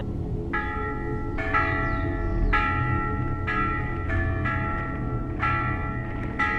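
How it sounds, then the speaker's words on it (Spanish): Bells in an underground vault ring out clearly in a series of bright, overlapping strikes. Each tone rings on and decays over a low rumbling background, and no one talks. "Y las campanas"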